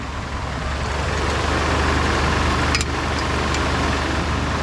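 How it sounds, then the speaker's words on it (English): A 1986 Jeep CJ7 engine runs steadily with its fan clutch engaged, giving a loud, constant roar and rushing fan noise up close, plus a brief faint rattle partway through. "Sounds like that fan clutch has engaged."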